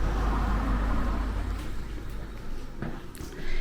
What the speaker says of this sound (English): We've got the windows wide open, so there are some noisy trucks going by.